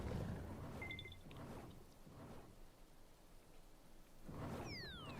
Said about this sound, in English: It's also raining in our base.